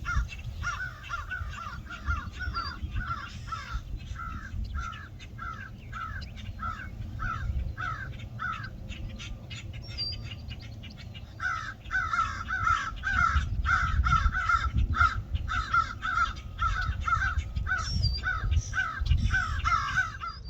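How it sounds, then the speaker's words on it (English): Crows cawing repeatedly in a tree within a wooded natural area, harsh calls in uneven bursts that grow busier and louder toward the end, with steady low outdoor rumble underneath. "Looks to be a big bird or two trying to chase away smaller birds out of the same tree."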